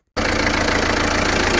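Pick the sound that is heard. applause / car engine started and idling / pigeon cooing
car engine started and idling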